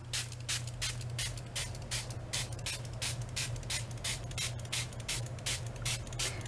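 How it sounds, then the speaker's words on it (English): A spray bottle of plain water spritzes onto tie-dye fabric in quick, evenly spaced bursts of hiss, about a dozen sharp pumps in a steady rhythm, close and alone over a low background hum. "Take your spritz bottle and"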